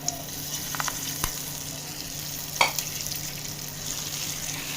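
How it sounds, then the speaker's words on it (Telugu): Freshly fried tempering with dried red chillies being stirred into chutney, a soft sizzle with occasional scraping clinks of a spoon in a pot, close and quiet with no talking. "ఇప్పుడు వేగిన పోపుని చట్నీ వేసేసి కలుపుతాం."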